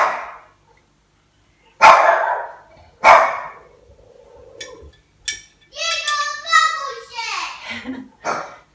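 A pet dog named Diego barks sharply a few times nearby in a kitchen while keto meal food with onion, tomato and mayonnaise is prepared. Someone speaks between and after the barks.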